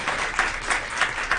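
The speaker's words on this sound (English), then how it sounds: "Round of applause for that." Brief spattering of applause from a small audience at a school-board meeting, honoring an award for a Tennessee school superintendent; moderately loud, steady clapping with slight swells, no talking over it.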